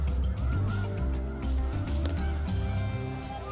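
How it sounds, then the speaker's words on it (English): A large flock of snow geese stopping over on their northward spring migration in Delta, Utah, honking in a dense, continuous chorus of overlapping calls that fills the whole stretch without a break. "come celebrate the retreat of winter with thousands of snow geese as they stop in Delta, Utah on their migration north"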